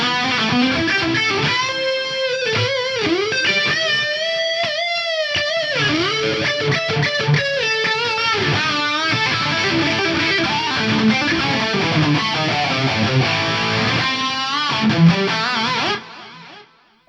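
Electric guitar through an SDE stereo delay with a digital stereo high cut and a near-50% left-right time ratio, on the Fractal ICONS Pasadena amp plugin, playing a continuous busy distorted lead line with echoes trailing before an abrupt stop.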